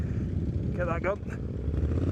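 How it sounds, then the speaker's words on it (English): Motorcycles rumble past on a Distinguished Gentleman's Ride group ride through Milton Keynes, a steady low engine drone running throughout beneath close talking voices. "Imagine the noise if you weren't a biker and you like lived in one of these houses."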